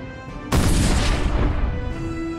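A torpedo striking the cruiser Indianapolis, rendered as a sudden massive boom that erupts after a short lead-in and rolls on as a loud, sustained rumbling roar, heard alone.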